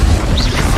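A Depulsor spell cast in Hogwarts Legacy gives a loud, booming magical burst with whooshing sweeps, short and dense.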